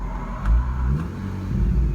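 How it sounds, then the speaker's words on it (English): Volkswagen MK6 GTI with an aftermarket exhaust cutout installed, starting up close by: a quick cranking burst, then the engine settling into a steady idle rumble. "Put the clutch in, start the car. Car starts up like normal."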